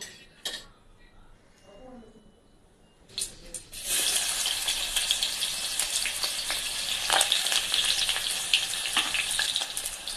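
Onion tossed into hot oil in a pot for an egg curry base starts a loud, steady sizzle after a few quiet seconds, crackling on close by with no talking.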